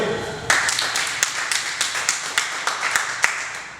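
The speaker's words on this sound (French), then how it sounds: "Très bien. Applaudissez pour elle." Schoolchildren in a classroom applaud, a dense steady patter of many hands clapping with sharper individual claps standing out, filling the room for several seconds.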